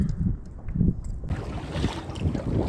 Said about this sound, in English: It is still windy as all get out.